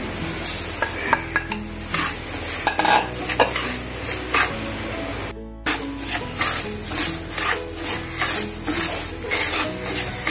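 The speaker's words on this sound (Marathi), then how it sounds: "आपली अशीच मंद ह्याच्यावरती भगर भाजून घ्यायची।" Barnyard millet (bhagar) is dry-roasted over a low flame in a pan, with a spatula scraping and stirring in quick, repeated strokes over a soft sizzle, close and fairly loud, with a brief pause midway.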